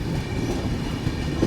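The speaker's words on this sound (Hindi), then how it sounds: "ये देख लो, रो ट्रेन, जो कि सिर्फ आपको कोंकण रेलवेज में देखने को मिलेगी।" A Konkan Railway Ro-Ro freight train, carrying whole trucks on its wagons, rolls past with a steady, loud rumble and faint rhythmic wheel clatter throughout.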